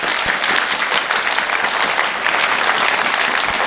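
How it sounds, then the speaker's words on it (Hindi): A large audience bursts into vigorous, continuous applause, an even, loud wall of clapping hands lasting the whole stretch without speech. "तो एक बार जबरदस्त तालियां चाहूंगा।"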